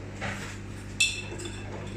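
A fork lightly clinks against a bowl of sourdough starter, with one clear chime of metal in a quiet kitchen and faint scraping stirring sounds around it.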